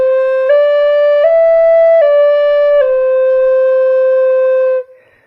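A side-blown spirit flute plays a short phrase of clear, sustained tones, gliding from note to note with no breaks between them, loud and close, then fading out at the end.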